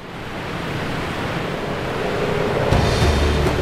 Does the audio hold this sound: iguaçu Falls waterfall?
yes